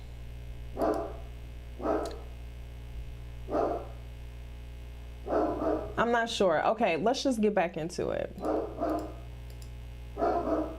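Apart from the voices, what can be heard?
dog barking in the background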